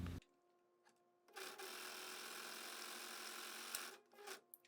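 A Juki MO-50e 3- or 4-thread overlock machine sews one continuous stitch for about two and a half seconds, a loud, even, rapid whir close by, with brief clicks of handling before and after.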